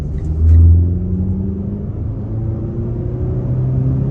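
A 2023 Mitsubishi Eclipse Cross SEL Touring accelerates at about a third of throttle on a test drive, giving a steady low engine drone and road rumble from inside the cabin, with a brief swell early on.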